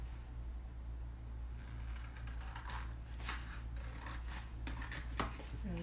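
Scissors cutting out paper pumpkin shapes with stripe and diamond patterns: after a quiet start, a run of close snips and papery rustles sounds over a constant low hum, with the cuts growing denser toward the end.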